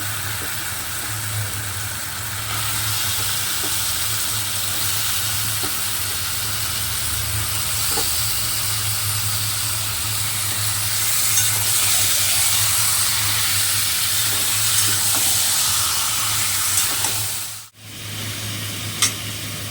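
Mutton pieces dropped onto oily, well-fried spice paste sizzle steadily in a pan, a continuous close hiss and crackle with a brief break near the end.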